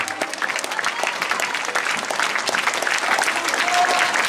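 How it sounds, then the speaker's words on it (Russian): A crowd applauds Latin dance couples at a U19 Latin final of the StarLight Grand Prix Cup, with dense, loud, sustained clapping that swells slightly toward the end. "Ваши громкие аплодисменты, поддержка овации, восхищение прекрасными танцевальными дуэтами"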